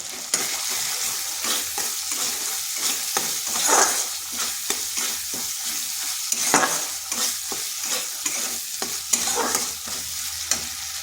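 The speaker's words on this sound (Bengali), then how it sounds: "ডালটায় মশলার সাথে কিছুক্ষণ কষে নিচ্ছি।" Lentils fried with spices in a pan while cooking vegetarian cabbage, with a steady sizzle under rhythmic scraping strokes of a spoon stirring close by and no talking.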